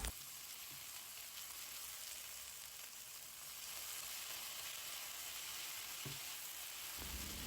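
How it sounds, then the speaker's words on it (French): Bean sprouts are stirred in a sizzling pan for Vietnamese beef stir-fried noodles, a constant loud frying hiss with a few faint utensil knocks near the end. "Puis j'ajoute les soja. Je remue pendant 1 minute."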